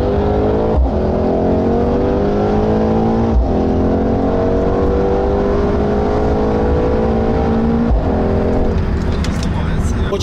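A stage 3 BMW Z4 accelerates hard while racing a Mercedes C63 AMG, its engine climbing in rising sweeps through several gear changes, loud and close from inside the car, with a voice briefly present.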